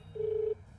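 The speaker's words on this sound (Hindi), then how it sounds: "अरे सर, फोन बज रहा है, देखो ना।" A single steady electronic telephone tone sounds for about half a second in a dubbed action movie scene, fairly loud over a low background hum.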